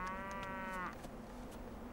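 A cow gives a single long, low moo that slides downward and then fades, heard on its own against a faint background hum in a rural wartime setting.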